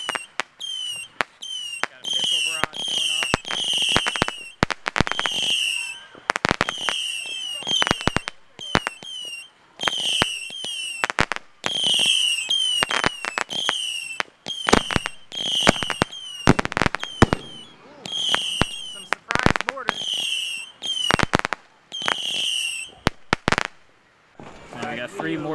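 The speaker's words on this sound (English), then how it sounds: "Three mortars coming out of the big tubes." Firework mortars fire from large tubes at a backyard Fourth of July show: a dense series of sharp pops and crackling bursts, loud and close, with voices reacting in between.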